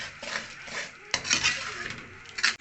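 Powdered almonds, magaz and pistachios are fried in a pan and stirred with a spoon, giving close scraping strokes in bursts with a few sharp metallic knocks and faint sizzle.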